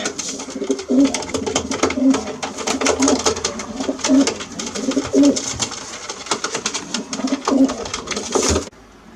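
Long-distance racing pigeons coo in low, repeated murmurs against a busy rustle of wings and shuffling birds, close by and fairly loud, ending abruptly.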